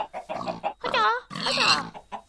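Pigs oink in the video game Minecraft, a few short grunting squeals in quick succession, close and fairly loud with no talk over them.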